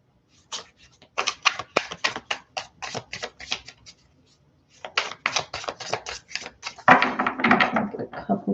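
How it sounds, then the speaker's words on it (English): Tarot cards are shuffled by hand in bursts of rapid, close riffling clicks, a pause, then another run ending in a louder flurry of card handling. "I have to get some good shuffling going on here"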